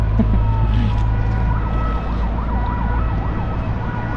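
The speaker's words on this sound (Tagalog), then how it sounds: "Ayun na ang ambulansya." An ambulance siren wails loudly and steadily, its pitch sweeping up and down in repeated cycles over constant traffic rumble.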